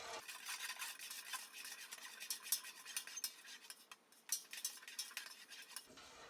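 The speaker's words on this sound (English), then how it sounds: "go ahead and stir until your soda ash is dissolved" Soda ash gets stirred into warm water in a vessel, giving a quiet, continuous scraping and clinking of a utensil against the container, close by and soft, with brief pauses and no talking.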